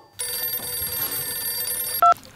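A telephone rings, giving a short, bright electronic trill near the end over a faint steady tonal hum.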